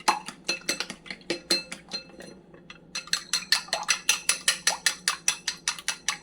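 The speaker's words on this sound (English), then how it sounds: "So make sure you beat this egg, incorporate the white and the yolk." A fork beats an egg in a bowl for scrambled eggs, making quick, rhythmic metallic clinks against the bowl; after a short pause the strokes return in a faster, steady run, close and clear with no talking.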